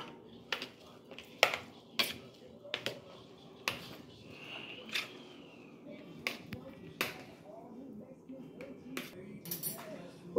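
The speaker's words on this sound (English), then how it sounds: "Now I'm going to go ahead and mix this all together" A broccoli salad with tomatoes is tossed together in a bowl, giving irregular sharp clinks and clicks of a utensil against the dish, close and fairly quiet, with soft rustling between the strikes.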